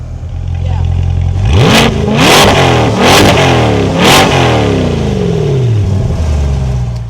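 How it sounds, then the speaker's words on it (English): A C8 Corvette Stingray engine revs loudly several times in quick succession, exhaust roaring up and dropping back between blips, close by. "we gotta get some exhaust sound"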